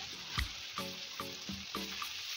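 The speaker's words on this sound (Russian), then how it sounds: "В горячее масло опускаем овощи." Onion and carrot fry in hot vegetable oil and butter in a pan on low heat. A continuous soft sizzle is broken by a few evenly spaced stirring scrapes.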